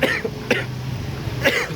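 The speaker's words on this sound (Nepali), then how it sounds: "मलाई खोकिन लागिरह" A person coughs three times, short and dry, while walking in light rain, with a steady hiss of rain and ambient noise around the coughs.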